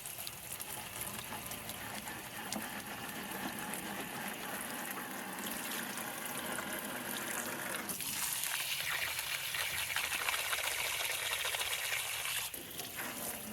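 Fresh water running at a gold mine, used for processing gold, a steady rushing trickle that keeps flowing and briefly shifts to a brighter splashing tone partway through, with no talking.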